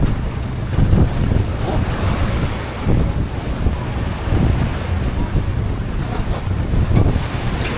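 Rough, choppy sea surges and slaps around a small boat in a continuous wash of waves, with strong wind buffeting the microphone, loud and close throughout.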